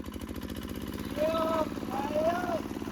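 A motor cultivator tilling soil, its small engine droning steadily and revving harder, with a person shouting over it nearby.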